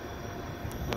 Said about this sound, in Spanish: Un avión aterrizando ahí.